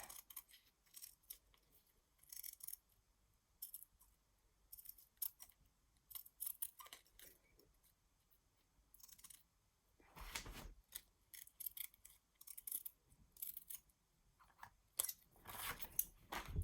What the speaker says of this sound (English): Once it's dry, then all I did was I cut around it.